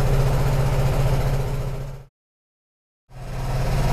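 A Vespa automatic scooter engine idles with a low, rapid chugging, cutting out to complete silence for about a second before resuming.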